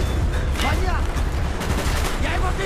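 Gunfire during a Call of Duty: Black Ops firefight on Veteran difficulty, with several sharp bursts and shots scattered through a dense, noisy battle mix, over a continuous rumbling background.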